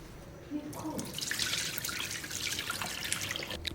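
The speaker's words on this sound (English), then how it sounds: "Rinse the chicken feet under hot water until the water runs clear." Hot tap water runs over chicken feet in a kitchen sink, a soft continuous splashing and trickling that grows slightly as the stream hits the feet, fairly quiet and close.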